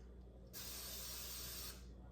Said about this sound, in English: We're going to spray just the very top of that with some olive oil spray